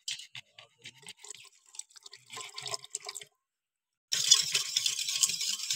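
Rose water poured into homemade lassi, a hissing liquid stream after a few seconds of scattered splashes, clinks and a short silent gap, continuing steadily and close by.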